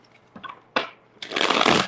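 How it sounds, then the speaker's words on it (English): Tarot cards being shuffled in short bursts: a couple of brief riffles, then a longer, louder flurry of papery flapping close by, with no voices. "Why are the shuffles so small"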